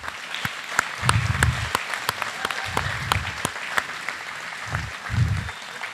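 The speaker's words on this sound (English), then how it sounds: "join me in giving Owen a round of applause for that accomplishment." A banquet audience at an FFA awards dinner gives a round of applause, sustained crowd clapping with sharp individual hand claps standing out and a few low murmurs or cheers underneath.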